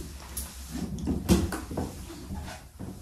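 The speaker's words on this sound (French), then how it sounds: "L'escalier grince." Old wooden staircase in an abandoned manor creaking underfoot while climbing to the top floor, with several low groans and knocks spaced irregularly over a few seconds, close by.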